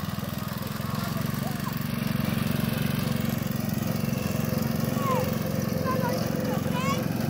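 A Model A or Model T Ford engine runs while driving, a steady low, chugging hum throughout, with faint voices and outdoor sounds above it.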